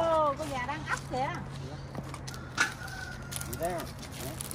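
A brooding hen sitting on a backyard nest of about thirteen eggs gives soft, intermittent clucks and low calls close by, over a steady hum, with people talking nearby.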